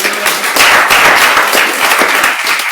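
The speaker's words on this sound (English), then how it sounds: "If everyone could give them a big round of applause." An audience at a labor and employment program event gives a round of applause, with a crowd of distinct, sharp hand claps that stays loud and even from start to finish.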